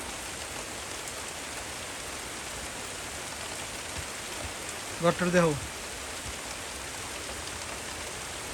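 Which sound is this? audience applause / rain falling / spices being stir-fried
rain falling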